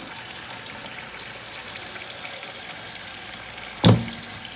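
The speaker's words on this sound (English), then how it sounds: "I have some nice cold water running" Cold water runs steadily from a kitchen tap over jalapeños in a continuous hiss, with one short, louder splash near the end and no speech.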